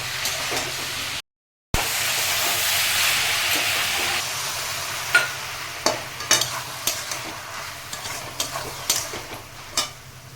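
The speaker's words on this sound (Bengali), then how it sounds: "এবার মশলাগুলোকে দিয়ে মিনিট 15-20 নাড়াচাড়া করতে হবে।" Spices sizzling in a pan for a Bengali banana flower curry, a steady frying hiss that gives way to irregular scraping knocks of stirring, with a short dropout near the start.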